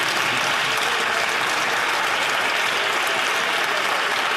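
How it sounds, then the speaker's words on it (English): Members of parliament clapping during question period in the House of Commons, a dense, continuous wash of applause from many hands throughout, fairly close and with no talk over it. "they're all applauding, standing up."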